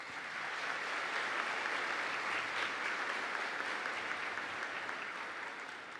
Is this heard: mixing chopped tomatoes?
no